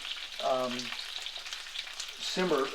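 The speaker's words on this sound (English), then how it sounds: "cook for a few minutes in the olive oil" Salmon cooking in olive oil in a pan, a soft continuous sizzle and crackle heard throughout under brief talking at the start and end.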